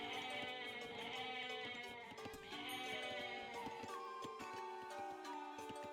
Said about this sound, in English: Look at these sheep.